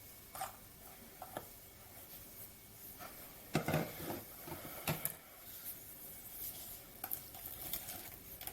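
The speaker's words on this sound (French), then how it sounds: "On mélange jusqu'à obtenir une pâte homogène." Yogurt muffin batter being mixed in a bowl, with soft intermittent scraping and stirring strokes and a few louder knocks against the bowl, close and otherwise quiet.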